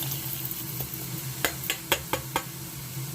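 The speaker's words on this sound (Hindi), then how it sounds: "हमारी प्याज जो है अच्छे से हम लोग रोस्ट कर रहे हैं, तेल में अच्छे से बना रहे हैं" Onions fry in oil in a pan with a steady, soft sizzle, broken midway by a few sharp knocks and scrapes as they are stirred, with no talking.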